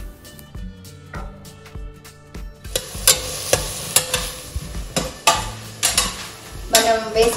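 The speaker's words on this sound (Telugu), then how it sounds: "ఇప్పుడు ఇందులో కట్ చేసి పెట్టుకున్న ఉల్లిపాయలు, పచ్చిమిరపకాయలు వేసేసుకుందాం" Chopped onions, green chilies and turmeric frying in oil for a village-style country chicken curry, with a steady sizzle under repeated sharp clinks and scrapes of a spoon stirring against the pan.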